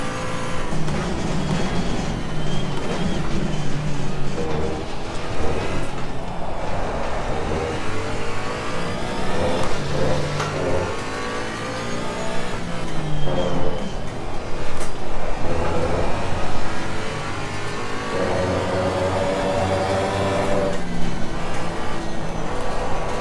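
A Porsche Cayman GT4 engine held in third gear in Assetto Corsa Competizione, revving up and down through corners with rising and falling pitch, loud and close, with brief throttle lifts between pulls.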